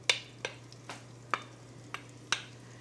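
Diced yellow onion being stirred into melted unsalted butter in a large Dutch oven over medium heat: a series of six sharp scraping stirs at irregular intervals over a faint steady sizzle and low hum.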